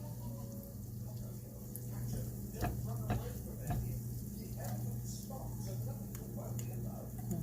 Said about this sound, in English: I got the butter on medium heat, and I'm just letting it melt